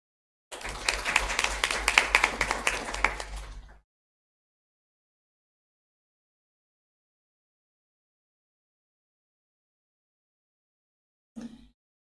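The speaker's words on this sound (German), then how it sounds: "mit einem warmen Applaus kurz begrüßen" An audience at a morning science event in Dresden applauds warmly for about three seconds, then silence follows, with a brief thump near the end.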